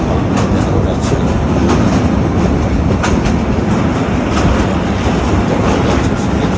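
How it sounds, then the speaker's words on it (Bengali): Loud, steady rumble heard from inside a moving train on the Dhaka to Brahmanbaria route, with continuous wheel and carriage noise and a faint clickety-clack throughout. "ট্রেনের ভিতর থেকে ভিডিওটা করছি"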